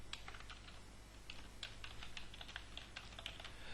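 Steady, quiet typing on a computer keyboard, with rapid light key clicks over a low hum and no speech.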